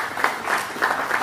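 Applause from an audience at an International Women's Day gathering, a dense steady wash of many hands clapping with slight swells, fairly close and continuous through the short moment.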